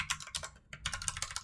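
Rapid typing on a computer keyboard, a steady run of close, crisp key clicks with a brief pause midway, alone without talk.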